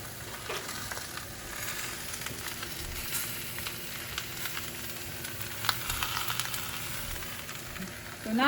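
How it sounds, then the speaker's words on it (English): A hot sizzler plate hisses and crackles steadily after a splash of water, a dense close sizzle with faint scraping, running alone without talk. "You see how this one is sizzling here,"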